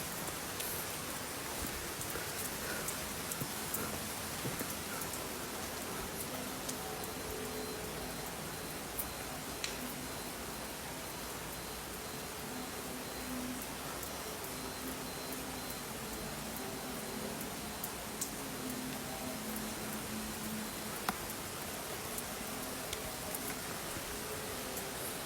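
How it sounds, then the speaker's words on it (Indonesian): Steady rain falls in an outdoor scene, an even broadband hiss with scattered drop taps that holds at a constant level for the whole stretch, with no talking. "Aku balik hujan-hujanan ini guys."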